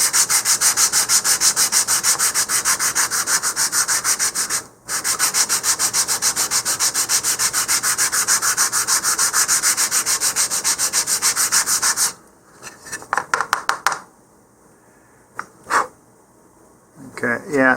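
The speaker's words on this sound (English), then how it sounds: "you want to sand with the grain" Sandpaper rubs steadily with the grain over the wooden body of a Dyna-Star Grappler model rocket, close and loud for about twelve seconds, with one brief pause, then trailing into a few scattered short strokes.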